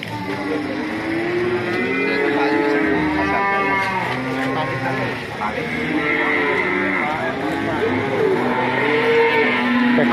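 Cattle in a pen moo loudly and repeatedly, several long overlapping calls close by, with a steady background murmur throughout.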